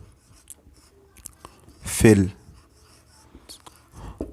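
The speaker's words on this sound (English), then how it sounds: "So let me draw their nucleus." A pen or marker scratches over a board or paper while a neutrophil nucleus is drawn during a teaching session. The scratching is quiet and intermittent, with one louder stroke near the middle and soft speech sounds around it.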